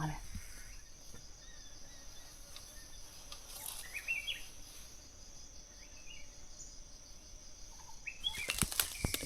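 Green pigeons flying in a forest: wing flaps come in brief bursts, louder near the end, over a constant bed of crickets and insects, with faint bird chirps.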